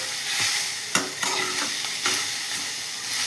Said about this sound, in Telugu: నూనెలోనే మగ్గబెట్టానండి నేను